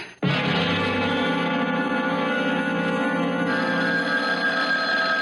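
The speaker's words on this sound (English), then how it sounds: "That must be Carl. Do you want to answer it" A telephone bell rings loudly and continuously in a home in a 1975 television sitcom, near and steady with no voices over it.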